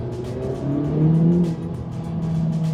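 A turbocharged 2021 Honda Civic Type R Limited Edition accelerates hard through a left turn, its engine note climbing loudly and steadily over nearly three seconds with no talking.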